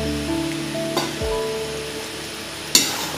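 Pumpkin pieces hit a hot frying pan with salt and crackle into a steady, close sizzle. Sharper clatters from the pan or spatula sound near the start and again toward the end.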